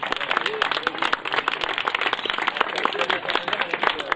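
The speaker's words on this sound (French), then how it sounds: "alors je pense qu'on peut les applaudir très très fort" Loud crowd applause for race volunteers at a cycling awards ceremony, with many hands clapping in a dense, continuous patter and voices mixed in underneath.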